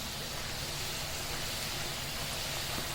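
Puris fry in hot oil as a continuous, even, rain-like hiss that holds steady throughout, without breaks or other sounds.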